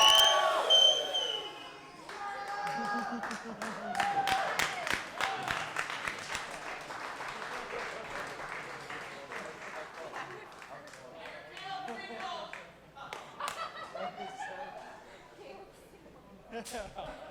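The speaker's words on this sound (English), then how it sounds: "Give Caleb another round of applause" Wedding reception guests break into applause and cheering after a toast, a loud crowd of clapping mixed with whoops and chatter that trails off into scattered claps and talk over about seventeen seconds.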